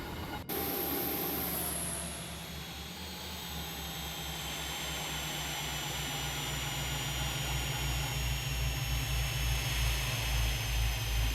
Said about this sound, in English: Shut down both engines.